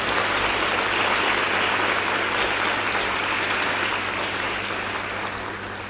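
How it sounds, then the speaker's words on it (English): A school prize-giving audience applauds, a dense, even wash of clapping that stays loud and sustained before easing slightly at the end. "Please give her a round of applause in her absence."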